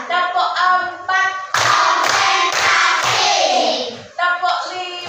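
A class of fourth-grade pupils claps a counted clap pattern: a quick run of sharp, loud hand claps in a steady rhythm, with children's chanting voices before and after.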